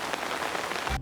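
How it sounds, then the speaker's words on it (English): Rain falling on a small family tent at a children's festival, a dense, steady patter of drops spread evenly across a short moment, close and alone without voices. "Oh dear, it is starting to rain."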